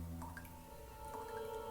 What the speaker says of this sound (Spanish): la chica se despertó debido al sonido de un goteo constante proveniente del cuarto de baño